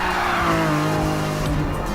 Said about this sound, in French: pendant le départ, la voiture semble s'élancer avec aucune complication.